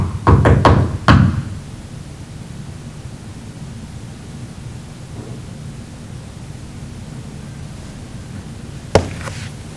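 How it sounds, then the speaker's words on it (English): A knock in a courtroom during a ghost hunt: several sharp thuds up front, then a long quiet stretch of hiss, then one more faint single knock near the end. "You can faintly hear the first knock on the video"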